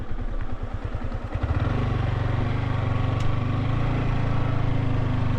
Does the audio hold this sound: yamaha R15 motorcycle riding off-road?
yes